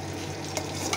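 Garlic sizzles and crackles steadily in hot oil as a pickle cooks, a close, continuous frying hiss with light stirring over it.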